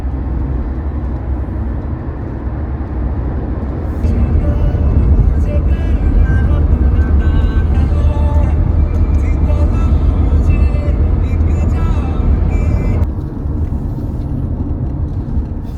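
A car drives a road out of Kathmandu, Nepal, giving a loud, steady engine and road rumble heard from inside that swells for a stretch mid-way before settling back, with no talk.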